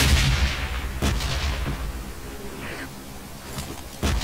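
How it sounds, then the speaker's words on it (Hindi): Bomb blasts in a red zone in the mobile shooter BGMI, loud booming hits at the start, around one second and near the four-second mark, with rumbling noise between them. "कहां बम फूटा भी देखा तूने"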